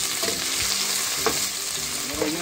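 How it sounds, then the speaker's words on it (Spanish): Freshly cut onion frying in a pot of hot oil, a loud, steady sizzle and hiss with faint stirring scrapes, close up and without talk. "Ya tenemos una cacerola con aceite caliente, vamos a poner la cebolla que acabamos de partir"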